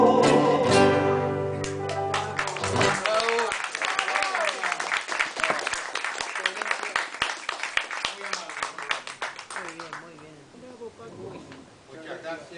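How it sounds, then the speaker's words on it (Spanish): Audience applause after a piano performance in a café arts venue: a sustained burst of clapping that swells, holds with dense overlapping claps and then tapers off, preceded by a brief musical ending. "Un aplauso para el piano, por favor."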